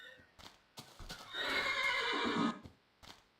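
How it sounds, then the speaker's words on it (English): A small horse in Minecraft lets out a loud, drawn-out whinny and neigh, framed by a few short, soft clicks and taps before and after. "That is a lot of noise from such a little horse."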